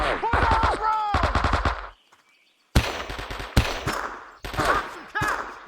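Rapid machine gun fire in the video game Men of Valor, Da Nang mission: sustained close bursts of rattling shots, a short lull, then more loud volleys, with a voice shouting over the gunfire.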